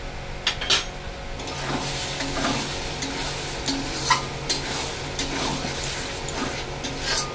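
Mutton being sautéed in oil with Kashmiri chilli powder, cooking until the oil separates. A close, constant sizzle runs under repeated scraping stirs and a few sharp clanks of the spoon against the pot, with no talking.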